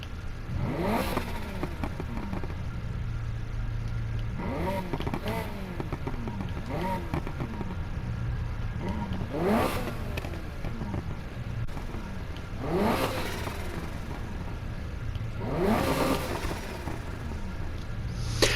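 A Mini Cooper with twin turbos and nitrous in the Need for Speed Heat game, its engine revved in five repeated rising sweeps, each climbing and dropping back over a steady idle hum.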